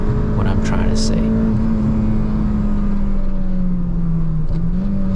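Honda Civic Type R with a K20 engine droning steadily at high revs, a loud sustained engine note with a slowly drifting pitch throughout, with speech faintly mixed in.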